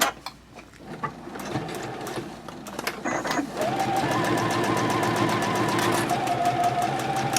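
A sewing machine runs steadily close by, basting layered fabric for a quilted pouch with an even, fast mechanical whir that holds for several seconds after a few brief starts.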